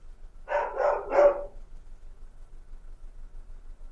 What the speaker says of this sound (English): Those are some vocal puppies.